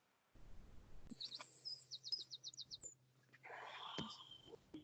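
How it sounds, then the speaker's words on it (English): A small bird sings outdoors, a rapid series of about ten high, sharp repeated notes followed by a brief chirpy trill, fairly faint and alone with no talk. "There's a lovely bird in the background."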